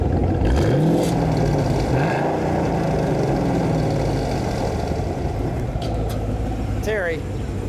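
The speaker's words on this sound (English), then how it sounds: "Let me get the engine sound and the exhaust note." A 2015 Chevrolet Camaro Z/28 engine runs at a steady rumbling idle with a deep exhaust note, loud and close, while people talk over it.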